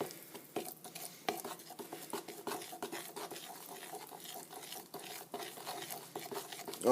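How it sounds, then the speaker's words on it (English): Pepsi cake batter being mixed in a bowl, with quiet, close, irregular stirring scrapes and soft utensil clicks against the bowl, no talk. "Mix it up really, really well."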